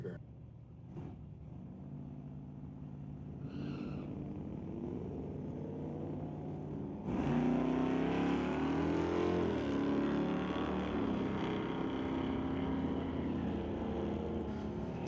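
Drag-racing cars at the track, a Chevelle chasing its rival, heard from a distance: a low steady engine drone that jumps louder midway and holds as a sustained roar, with a faint voice early on.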